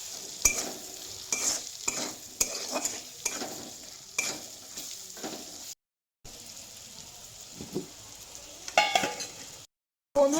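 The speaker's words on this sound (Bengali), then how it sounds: "এবার ভালোভাবে নাড়িয়ে নেবো।" A spoon stirs cabbage curry with cumin, coriander and chili powder in a hot pan. Repeated close scraping strokes run over a soft sizzle, with two brief dropouts.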